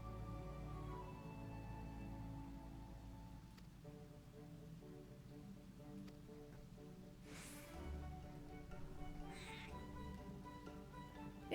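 A pet cat meows a few times close by, the short cries rising over steady background music during a live game stream.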